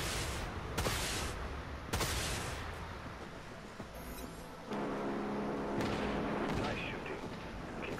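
Ship cannons firing in the Dreadnought space combat game, with several sharp booming shots spaced a second or so apart over a steady engine drone, and a voice speaking now and then.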